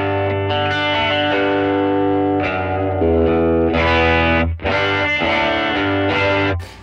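Crunchy overdriven electric guitar chords through dual tweed amp models ring out loud and sustained, with a gritty distorted edge and brief gaps between strummed passages.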